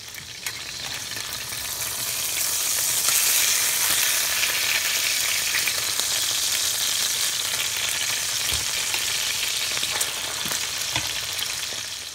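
Danish sausages sizzle steadily in a frying pan for about twelve seconds, a dense, even crackle with occasional sharper pops and no voices.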